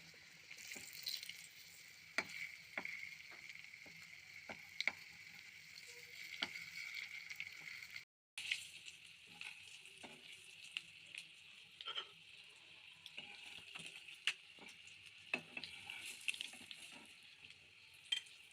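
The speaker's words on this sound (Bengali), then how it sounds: "দুদিক ভালো করে ভেজে নেব।" Eggs frying in a pan give a steady, quiet sizzle with scattered soft pops and a few ticks of a utensil, broken by a brief cut partway through.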